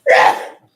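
A single sharp, close sneeze bursts out and trails off within a second, loud and alone.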